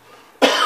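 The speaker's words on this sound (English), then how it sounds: "Same with my cough." A single short, sharp cough, close and loud, breaking out suddenly after near silence.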